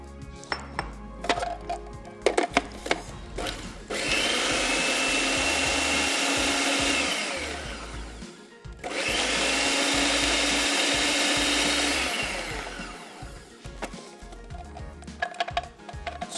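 Electric chopper whirring through fresh oranges in a kitchen, two loud sustained grinding bursts of several seconds each, separated by a short pause, with clatter of handling before and after.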